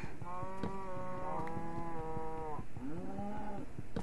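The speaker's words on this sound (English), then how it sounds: "Cows and cows and cows everywhere." Cows mooing in the Minecraft video game, several drawn-out overlapping moos over a steady background.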